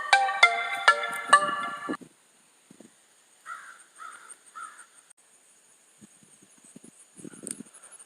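A phone ringtone for an incoming call plays as a few loud, bright, repeated tones at the start, followed by faint scattered shuffling and short muffled sounds.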